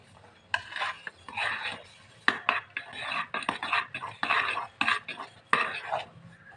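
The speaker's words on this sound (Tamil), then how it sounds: "கரண்டி வச்சு நல்ல கிளறி விட்டுக்கணும் அது நல்ல குழைவாக இருக்கும்" A ladle scrapes and knocks through thick sweet pongal (sakkarai pongal) in a pot, a string of close, uneven stirring strokes and metal clinks with short pauses between them.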